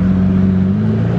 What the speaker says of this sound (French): Oh, le bruit qu'elle fait, la SVJ, là.